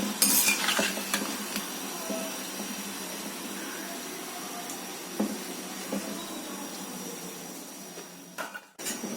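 Papdi frying in oil over a low-medium flame and being lifted out, heard as a soft continuous sizzle with scraping, stirring and clinks of a metal utensil against the pan, without talk.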